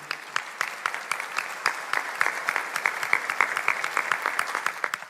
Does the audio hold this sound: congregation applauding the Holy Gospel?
yes